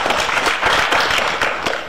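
An audience at an outdoor tournament celebration applauds in a dense, continuous wash of clapping, loud and steady for the whole short moment.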